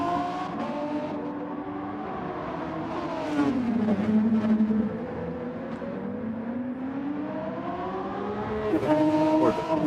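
A hybrid endurance race car in a WEC World Endurance Championship race whines past with a rising then falling engine note, loud and steady, while other cars drone in the background.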